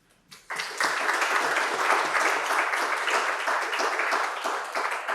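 Sustained audience applause fills the room at a data science bootcamp demo day in Bordeaux, starting abruptly after a brief pause and holding steady and dense for several seconds.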